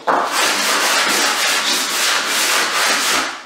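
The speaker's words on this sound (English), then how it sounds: "a cheap piece of 100 grit sanding paper stapled to it." Hand sanding along a plywood flooring plank edge with 100 grit sandpaper: continuous rapid back-and-forth rasping strokes, loud and close, lasting a few seconds.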